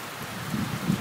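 Rain falls during a thunderstorm in a brief, steady wash of drops with a faint low rumble underneath and no voices.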